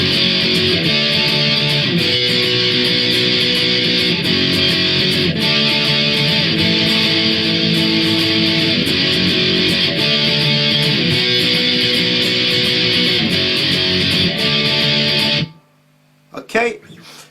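Distorted electric guitar power chords playing a song's chorus, a loud, dense, steadily strummed wall of sound with regular chord changes over many bars, ending abruptly before a brief quiet tail.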